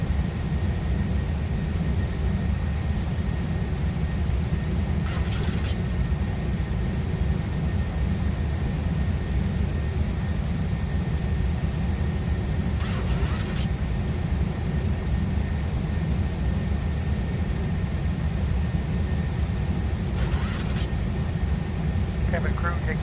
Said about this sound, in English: Southwest 868 on final approach, runway 20 right